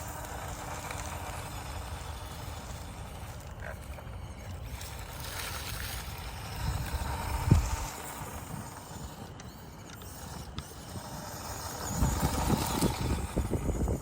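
A Redcat Ascent 18 RC crawler on a 2S speed test: a faint, continuous motor whir with tyre and terrain rustle, growing rougher and louder toward the end, with a brief knock midway.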